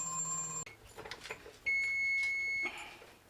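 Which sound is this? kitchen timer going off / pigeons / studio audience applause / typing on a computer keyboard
kitchen timer going off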